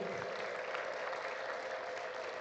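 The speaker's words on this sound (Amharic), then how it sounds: "ለእግዚአብሔር ክብር እልልታና ጭብጨባ እንሰጠዋለን።" A church congregation at Bethel Ethiopian Evangelical Church in Kitchener, Canada, bursts into sustained, dense applause with possible ululation, a steady wash of clapping from many hands filling the room at moderate level.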